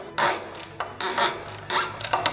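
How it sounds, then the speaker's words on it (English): Metallic ratcheting bursts from a wrench loosening motorcycle front wheel pinch bolts and brake calipers, close and repeated in short uneven clusters with no talking. "We're gonna loosen the pinch bolts and just crack the axle just a bit."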